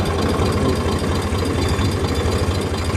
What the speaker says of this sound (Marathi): हे ट्रॅक्टर चाललेलं आहे